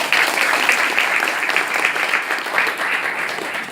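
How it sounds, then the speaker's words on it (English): Audience applause fills a seminar hall organized by Indonesian students in Pakistan, a dense, steady clapping from many hands that holds at an even level throughout without any voices over it. "we have to give an applause to them"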